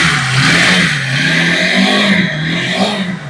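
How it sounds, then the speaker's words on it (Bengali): A Lifan KPR 150 motorcycle engine revs loudly and up close, its pitch climbing and falling in one continuous, steady run. "এই গাড়িগুলা এতটাই ফ্রেশ, ইঞ্জিন সাউন্ড শুনলে বুঝতে পারবেন"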